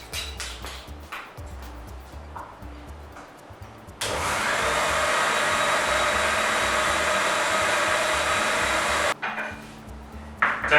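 A mixer grinder whirs loudly for about five seconds, blending raw mango and coriander into chutney, starting and stopping abruptly, with quieter kitchen clatter before and after.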